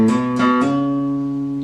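A guitar picking pattern played incorrectly: three sharp plucked attacks in quick succession, then sustained ringing notes decaying, loud and close with no talking.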